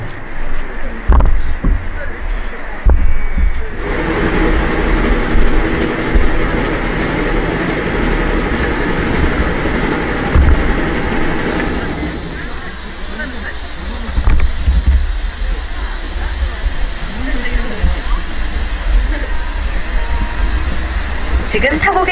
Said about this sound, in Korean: 열차 출발합니다.